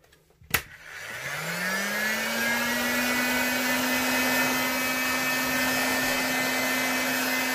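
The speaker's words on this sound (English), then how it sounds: "Get the heat gun." Heat gun switched on with a click, its fan spinning up into a loud, steady whirring blow as it dries a fresh coat of paint on a sneaker sole, close and continuous without talk.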